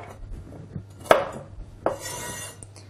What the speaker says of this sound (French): Coupez les extrémités de la carotte.